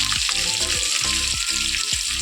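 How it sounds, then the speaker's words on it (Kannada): Mustard seeds fry in hot oil, a loud continuous sizzle punctuated by sharp crackling pops at irregular intervals, close up and with no talking. "ಇವಾಗ ನಾನು ಫಸ್ಟ್ ಆಫ್ ಆಲ್ ಸಾಸಿವೆ ಹಾಕ್ಕೊತಾ ಇದ್ದೀನಿ."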